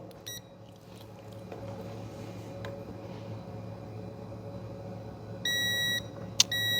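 A steady electronic hum runs throughout, then a brake fluid tester gives a sharp, high-pitched warning beep for about half a second, followed by a brief click and another beep starting.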